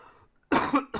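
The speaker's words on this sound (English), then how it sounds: "I hope that I won't be coughing so much today" A man with a lingering lung problem gives two sharp, close coughs in quick succession, followed by the start of a third, after a stretch of near silence.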